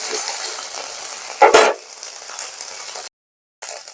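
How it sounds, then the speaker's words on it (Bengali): Ginger, cumin and green chilli paste fries in hot oil, a close, steady sizzle with a brief louder burst of stirring, then a short silence before the sizzling returns. "এটাকে তেলের সাথে একটু হালকা ভেজে নেব যাতে আদার কাঁচা গন্ধটা চলে যায়।"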